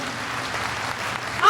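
Audience clapping at a devotional poetry recitation at Bageshwar Dham, a steady wash of applause from a large crowd that swells toward the end, with a voice faintly heard among it.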